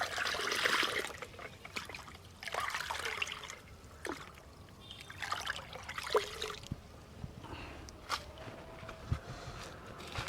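Liquid fertilizer being stirred into water, with intermittent splashing and trickling bursts close by, fairly quiet, with short pauses between swirls.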